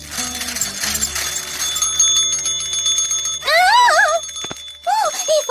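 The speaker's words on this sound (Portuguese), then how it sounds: "saca só o meu novo sininho" A small bell rings in bright, repeated jingles through an animated cartoon scene, loud and close, with voices and background music around it.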